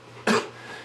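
A man on an NFL sports talk show gives a single sharp cough, short and close, breaking a moment of quiet.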